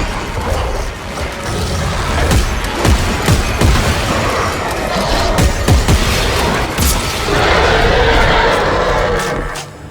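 Rifle gunfire in the sci-fi horror shooter Dead Space 3, a steady run of loud, close shots with booming impacts and clattering mechanical noise over a dense battle soundscape, with no talk.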